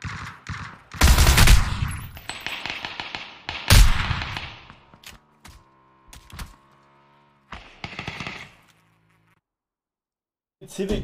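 Tommy gun fired in PUBG, heard as bursts of rapid automatic fire with loud broadband blasts, mixed with clicks and thuds and overlapping game sounds, with a voice talking between shots.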